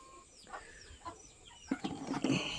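Semi-free-range laying hens clucking softly nearby, a few scattered clucks and calls, getting busier and louder toward the end.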